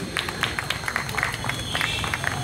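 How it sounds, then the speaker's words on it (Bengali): An audience claps for the Amrita Kumbha group in a Rabindra Sadan stage hall in Berhampore, a steady patter of many hands with scattered sharper claps across the whole stretch. "আমার পক্ষ থেকে, আপনাদের সবার পক্ষ থেকে একবার অমৃত কুম্ভের জন্য হাততালি হবে"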